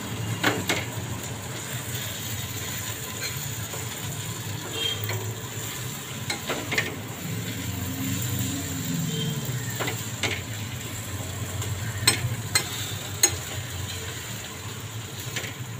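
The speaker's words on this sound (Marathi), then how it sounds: "पूर्ण असं पिवळा लालसर होईपर्यंत छान त्याला परतून घेणार" Potato slices with green chili stir-fried in a pan, a low steady sizzle broken by scattered clicks and scrapes of a spatula against the pan, with no talking.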